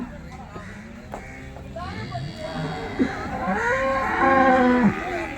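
A cow at a cattle market moos with drawn-out, rising and falling calls, close by, alongside shuffling and faint background voices.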